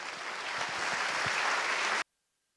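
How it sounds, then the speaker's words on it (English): An audience at the React Finland 2022 conference claps for a speaker, a steady dense burst of applause that swells slightly and then cuts off abruptly into silence. "So please clap"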